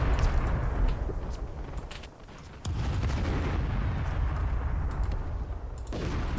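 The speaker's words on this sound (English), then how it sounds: "These grads are so crazy. Like, they take forever to reload, but when they fire, it's a big explosion." Grad rocket artillery fires and explodes in a futuristic battle video game, a series of booming blasts and crackling impacts over a rumbling din, with a brief lull before the barrage resumes.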